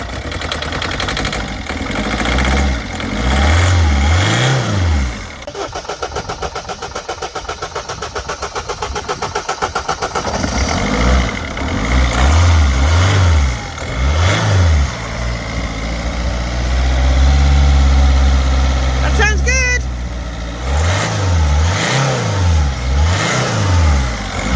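A diesel car that was misfuelled with petrol, now fixed, starts up and revs repeatedly in loud close bursts, dropping back to a rough idle between the revs.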